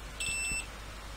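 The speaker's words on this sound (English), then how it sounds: "let's see if we get a beep on any of the points on this potentiometer" A multimeter in continuity mode gives a short, high electronic beep while its probe touches a potentiometer during repair of a TDA2020 amplifier, one brief clear tone in a quiet room.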